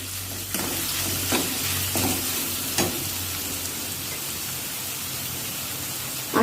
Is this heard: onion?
yes